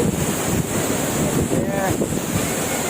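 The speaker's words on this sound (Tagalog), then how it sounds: "Pulang Bato Falls." Pulang Bato Falls in Valencia, Negros Oriental, roars as a dense, steady rush of falling water close by. Some wind buffets the microphone and faint voices blend into the noise.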